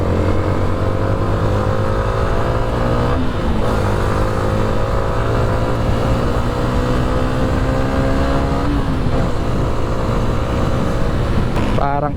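A motorcycle engine on its stock exhaust pipe runs steadily and fairly loud throughout, with a low idle drone and a few light revs, while a person talks over it.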